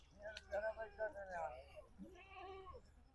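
Goats bleat a few times in wavering, harmonic cries, close by, with a quieter bleat following after a short pause.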